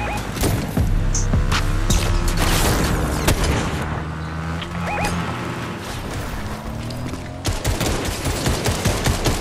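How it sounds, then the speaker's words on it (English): Gunfire during a Fortnite squad battle royale match, with rapid bursts of shots, booms and crashes layered over game noise and background music, continuous and loud. "Somebody's shooting over here."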